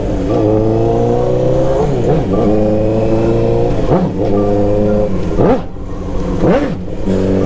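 Honda CBR 1000 sport motorcycle with full fairing accelerating hard, its engine climbing through repeated rising revs with brief drops between gear shifts, loud and close throughout.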